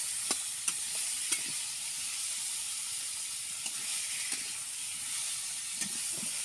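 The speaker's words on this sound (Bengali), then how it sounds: "আমার আলুগুলো দেখেছেন একটু লালচে লালচে হয়ে ভাজা হয়ে এসেছে, তেল ছেড়ে দিয়েছি" Potato pieces fry in oil for a fish curry, with a soft, steady hiss of frying broken by a few faint clicks and scrapes of stirring.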